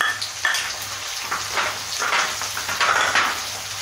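Chopped capsicum hits a hot pan of lightly browned garlic for Mumbai-style pav bhaji, giving a steady, close sizzle with soft clatter of the pan and spoon, with a low hum underneath.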